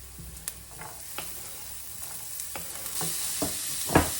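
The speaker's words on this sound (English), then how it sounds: "And then we'll add the carrots." Carrots being added to a frying pan with garlic for vegetarian meatballs bring a soft, steady sizzle, broken by repeated sharp clicks and scrapes of stirring, the loudest knock arriving near the end.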